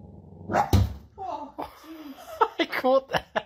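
Sleeping dog dreaming, letting out a muffled bark followed by soft whimpers and a run of short yips and woofs, close and fairly loud.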